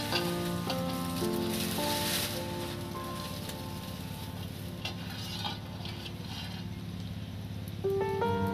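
Potato pakoras frying in a pan of hot oil give a steady, close crackling sizzle that runs without a break, while light stirring clatters over it and musical tones play in the background.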